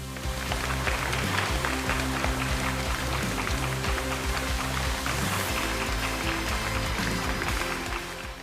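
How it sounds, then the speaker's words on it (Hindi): Steady, dense clapping fills Mormugao harbour in Goa as the returning women cadets are welcomed, loud and unbroken, layered over a sustained low droning tone throughout. "इनके स्वागत में पूरा बंदरगाह तालियों की गड़गड़ाहट से गूंज उठा।"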